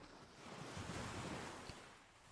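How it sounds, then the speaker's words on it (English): Ocean waves on a Florida beach wash in softly, swelling to a broad surge and easing off, faint and distant with some wind noise and no voices. "drift into rest with the sound of the ocean guiding you"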